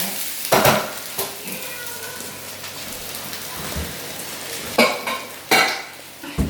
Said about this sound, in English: onion and green pepper. Stir that around